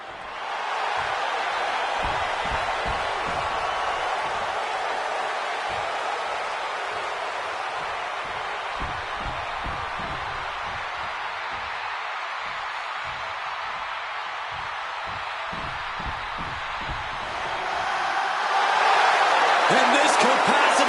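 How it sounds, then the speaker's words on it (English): A capacity arena crowd in WWE 2K26 roars for CM Punk before his match against Seth Rollins, a dense steady wash of cheering under commentary that swells louder near the end. "And this capacity crowd just exploded."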